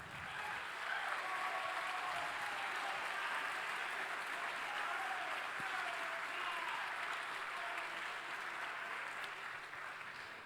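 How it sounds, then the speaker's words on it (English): An audience at the 2019 Formula SAE Michigan awards ceremony gives a sustained round of applause, a dense, even wash of many hands clapping that holds steady for about ten seconds before tapering slightly. "let's give yourselves all a nice round of applause"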